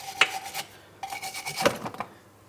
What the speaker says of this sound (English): I'm cleaning this using a wire brush.